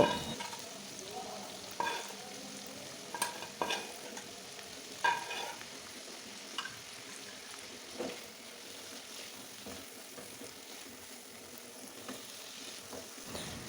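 Pointed gourd and half-cooked potatoes are stirred together in a pan. Soft, irregular scraping strokes sound over a faint, steady sizzle, quiet and close, with no talk.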